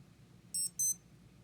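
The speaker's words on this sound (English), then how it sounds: "Timer went off." Breitling Aerospace wristwatch timer alarm going off, two short, bright electronic beep bursts in quick succession, close and clear against a quiet room.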